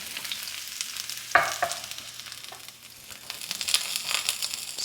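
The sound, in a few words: onions frying in olive oil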